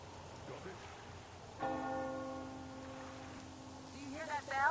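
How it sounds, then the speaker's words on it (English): A single bell in the video game Metro Exodus strikes once and rings out with a long sustained tone over quiet ambient background, followed by a brief faint sound at the end. "Do you hear that bell?"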